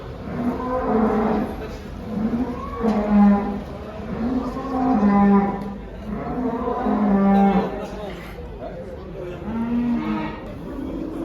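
Cattle moo repeatedly at the Bergama livestock market, several loud, drawn-out calls from nearby animals following one another across the whole stretch with no talk over them.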